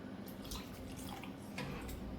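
Water trickling and dripping steadily into a pot of rice with pigeon peas, a soft continuous splashing pour with small drips on top, moderately quiet and alone.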